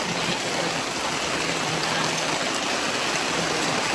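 Steady rain falling outdoors, a constant dense hiss and patter of drops with no pauses, fairly loud and close throughout.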